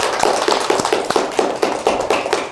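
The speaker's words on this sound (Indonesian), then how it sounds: "tepuk tangan untuk kelompok 3" A classroom of students applauds a student group, with brisk, dense clapping throughout and sharp individual claps standing out in a steady patter.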